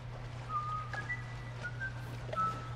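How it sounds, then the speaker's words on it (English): Faint, thin whistled tones glide in short phrases over a low steady hum in the sewers of the video game The Last of Us, sounding distant and electronic. "Whistling."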